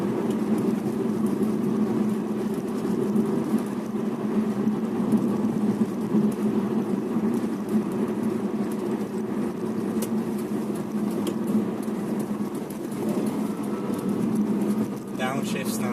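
A 2005 Subaru Impreza WRX with a 2.0-litre turbo engine pulling hard in third gear around 3,000 rpm, a steady droning engine hum heard from inside the car, continuous and even throughout.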